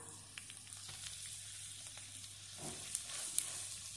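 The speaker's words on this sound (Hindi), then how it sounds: "दाल को मैंने अच्छी तरह मिक्स कर लिया है।" Ground chana dal being mixed in a hot pan for upma, a faint low sizzle with soft spoon scrapes and a couple of light clicks near the end, no speech.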